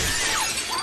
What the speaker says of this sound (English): The glass is shattering